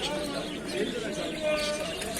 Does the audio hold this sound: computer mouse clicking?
no